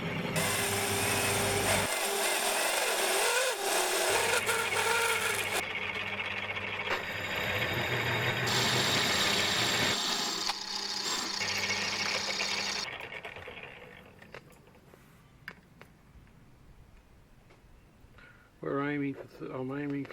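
Steady machining whine with a grinding, chattering noise as a 25 mm drill bit bores a metal dividing-head fraction plate for most of the clip, then it quietens and a voice speaks briefly near the end.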